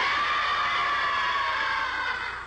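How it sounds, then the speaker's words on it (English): Kendo trainees practicing shouting in a 1984 dojo: a sustained, loud chorus of high, strained yells from many voices together, holding steady for a couple of seconds before tapering slightly. "Then comes practice in shouting."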